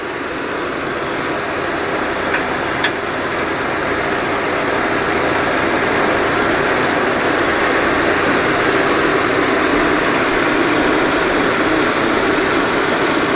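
A Suzuki Beidouxing small car idles with its air conditioning running, a steady close engine drone with a broad hiss layered on top, constant and unbroken, with one faint tick near the start and no talking.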